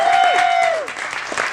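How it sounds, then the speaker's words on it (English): Wedding reception crowd applauding the bride and groom after the toasts, a dense wash of clapping with a sustained tone sliding downward near the start, then continuing steadily. "Another round of applause for the bride and groom, ladies and gentlemen"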